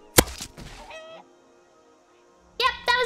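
A chicken in the video game Skyrim gives short clucking and squawking calls in brief bursts, loud and close, separated by a quiet gap.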